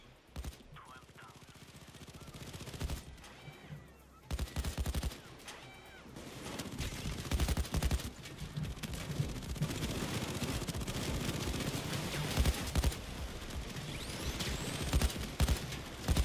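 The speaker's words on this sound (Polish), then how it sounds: "Może trochę niecelnie strzela te działko" A turret gun in the video game PayDay 2 fires in long, dense bursts of rapid shots amid chaotic game noise, with people talking now and then.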